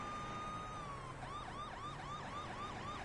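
A police car siren from the Police Simulator patrol game wails loudly and continuously, a steady tone shifting into a rapid repeating yelp, with no talking over it.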